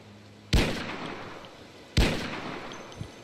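Two pistol shots in Project Zomboid, each a sharp loud crack with a ringing decaying tail, spaced about a second and a half apart, with a faint click afterward.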